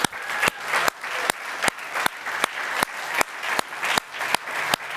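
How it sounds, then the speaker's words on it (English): A business demo-day audience gives hearty applause: loud, close clapping with strong regular pulses roughly every half second over a dense clatter of hands, lasting about five seconds with no voices. "they deserve a very hearty round of applause"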